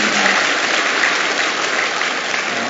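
A congregation applauds during a Sunday morning church worship service. The clapping is dense and sustained at an even, fairly loud level, with no pause and no voices standing out.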